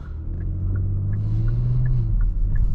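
Interior engine drone of a 2022 Kia Stinger GT2 under hard acceleration, a steady deep rumble with a rising tone that holds and then drops slightly, loud and continuous with no talk.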